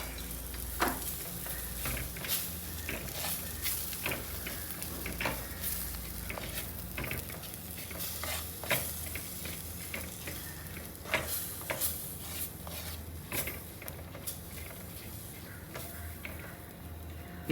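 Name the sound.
masala frying on low flame for fish head curry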